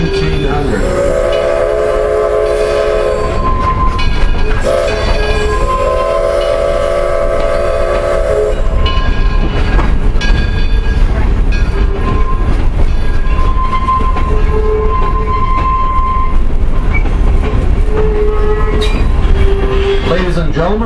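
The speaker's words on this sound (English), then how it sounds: "please stay seated until the train completely stops." A heritage passenger train runs at Greenfield Village, its horn sounding two long blasts near the start over a loud rumble of wheels and rail clatter that continues throughout, with faint voices underneath.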